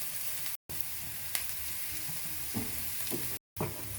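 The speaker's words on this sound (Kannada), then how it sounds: "ಈರುಳ್ಳಿ ಜೊತೆ ಕರಿಬೇವಿನ ಎಲೆ ಕೂಡ ಇವಾಗ ನೀಟಾಗಿ ಫ್ರೈ ಮಾಡ್ಕೊಳ್ಳೋಣ" Chopped onions and curry leaves fry in a pan with a steady, close sizzle, broken by a few soft stirring scrapes and two brief cuts to silence.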